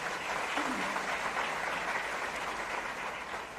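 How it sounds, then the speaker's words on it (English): A live audience at an onstage interview event breaks into sustained, dense applause that stays loud and even throughout, with a faint voice underneath. "Let's give the Sadhguru a round of applause"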